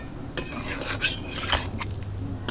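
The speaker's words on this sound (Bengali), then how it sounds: "এবার একটু নাড়াচাড়া করে নিলেই কিন্তু রেডি" White sauce pasta being stirred in a pan: a steady scraping of a spoon or spatula against the metal, with a few sharp clinks spaced through the stirring and a low hum underneath.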